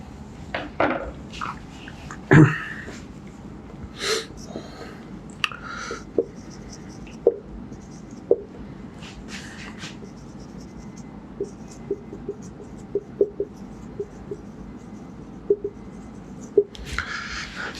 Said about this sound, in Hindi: जैसे मैं एक सेंटेंस लिखता हूँ